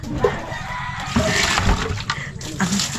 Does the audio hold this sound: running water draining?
yes